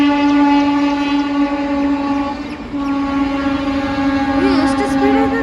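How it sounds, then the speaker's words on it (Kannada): A real train rushes past at speed with a loud sustained horn blaring over its rumble, close and continuous, the tone wavering briefly near the end. "ಈಗ ರಿಯಲ್ ಟ್ರೈನ್ ಬಂದು ನೋಡ್ರಿ,"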